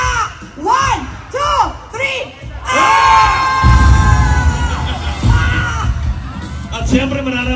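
A rally crowd shouts together in one long, loud, sustained yell after a few bursts of voices, then the roar fades back into cheering and talk.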